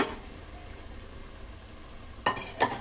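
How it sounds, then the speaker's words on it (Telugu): Boiled mutton tipped into a hot pan for biryani, with a low steady sizzle and then two sharp scraping stirs near the end. "మటన్ వేసేస్తున్నాను ఉడకు పెట్టుకున్నాను కదా మటన్ మొత్తం వేసేస్తున్నాను"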